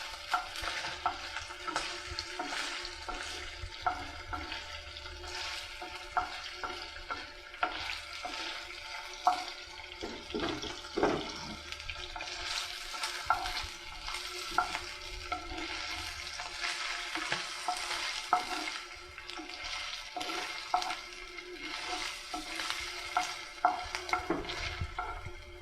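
Cubes of paneer fry and are stirred in a pan until reddish, a continuous dense sizzle with frequent scraping and clinking of the spatula throughout, close and steady with no talking.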